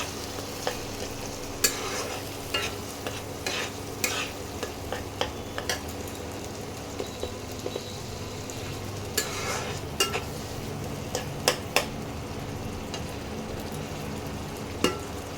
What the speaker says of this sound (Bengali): একটু পেঁয়াজটা ভেজে নিই তারপরে অন্য মশলাগুলো দেবো